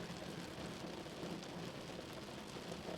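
Steady rain pours onto a road in the hills of Valparai, a dense, even hiss that is fairly faint and continuous, with no voices.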